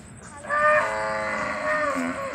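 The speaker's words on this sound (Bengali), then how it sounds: "গরুটা এমন জোরে ডেকেছে" A cow lets out one loud, close, drawn-out moo lasting about two seconds, with no talking over it.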